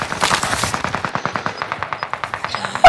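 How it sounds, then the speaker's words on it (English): Video game gunfire, a rapid automatic burst of evenly spaced shots, about twenty in under three seconds, loud and close with no talking. "Who the fuck is shooting at me?"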